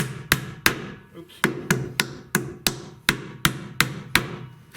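Hammer blows driving nails into a basement staircase, about a dozen sharp, loud strikes landing in an uneven rhythm at close range, each ringing briefly before the next.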